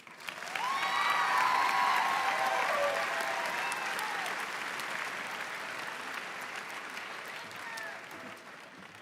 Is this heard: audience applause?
yes